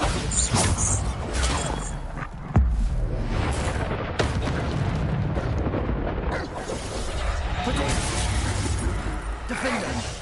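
Bombarda blasting spells in the Hogwarts Legacy video game burst as loud, dense booms over a continuous roar of battle, with one sharp impact standing out midway and further thuds following under spoken incantations.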